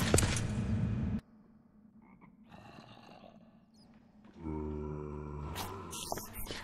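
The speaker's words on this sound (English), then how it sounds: "I heard a frog." A frog in the Minecraft video game gives low, rasping croaks in a couple of short bursts separated by quieter game ambience. Other sharp in-game noises cut in at the start and near the end, moderately close, with no talking.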